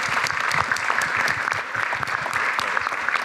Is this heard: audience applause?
yes